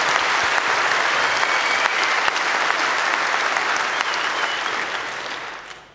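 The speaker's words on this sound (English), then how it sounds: "Round of applause" Audience applause at a hacker conference talk on defending mobile phones welcomes the presenters: dense, continuous clapping from a large crowd that holds steady and loud, then fades away in the final second.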